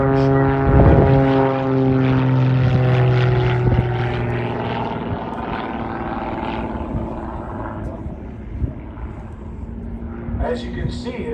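A light, high-horsepower propeller airplane flying aerobatics at a World War 2 weekend airshow, its loud engine droning with shifting pitch as it climbs and dives, fading somewhat toward the end, with people talking underneath.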